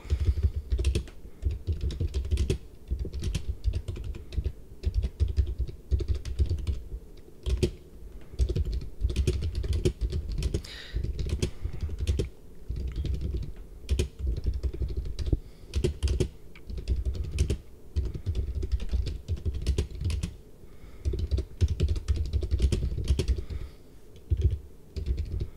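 Continuous rapid typing on a computer keyboard, dense clatter of key presses running steadily throughout, fairly close and loud with no talking.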